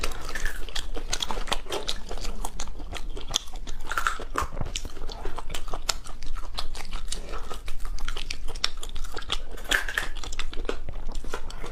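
Leftover shrimp legs are bitten and chewed close up in a continuous run of crisp crunches and wet mouth sounds, with no talking.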